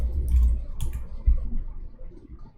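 Short bursts of computer keyboard typing, close and fairly soft, with a few distinct key clicks over a low background hum.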